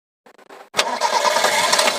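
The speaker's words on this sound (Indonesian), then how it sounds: "Ini untuk suara mesinnya masih halus banget." A 1986 Toyota Corolla SE Saloon engine cranks briefly, catches and settles into a smooth, steady running note, close and clear with no talking.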